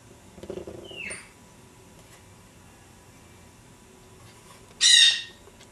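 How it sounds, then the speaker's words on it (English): Parrots in a neighbouring room let out two sharp squawks, a softer one early on and a louder, harsher one near the end, against a quiet indoor background. "As you can tell, we have parrots in the next room."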